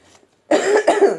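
A short burst of harsh coughing, close by, three or so hacking coughs in quick succession after a brief quiet start.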